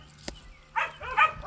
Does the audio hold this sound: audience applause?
no